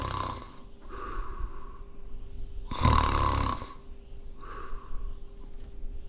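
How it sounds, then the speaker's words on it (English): A wolf in a Little Red Riding Hood fairytale narration snores loudly and close, with a rasping inhale, a pause and another drawn-out snore over a steady background tone. "fell asleep, and began to snore very loudly"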